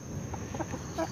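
A ten-month-old caboclo rooster on a small backyard poultry farm clucks softly in a few short calls, close by, over steady low background noise.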